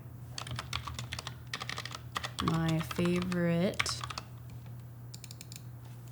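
Clicks and keystrokes on a computer keyboard and mouse while editing thumbnails in Adobe Express, a quick irregular patter of taps, with a brief burst of speech in the middle.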